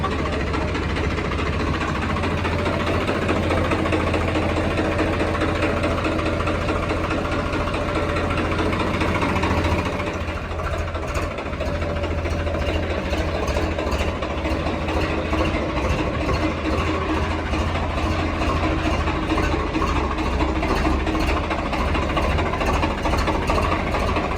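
A Swaraj 855 tractor engine fitted with a turbo idles steadily nearby during repair work, a loud continuous rumble with a slight shift in tone partway through.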